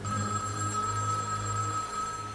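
A telephone bell rings steadily and fairly close in a quiet indoor room during a television drama scene, a continuous electronic trill with no voices over it.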